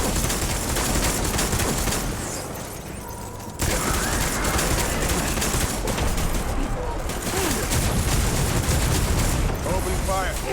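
Dense, sustained automatic gunfire from the Death Stranding video game, loud and continuous across the whole stretch with a brief lull midway, mixed with game effects.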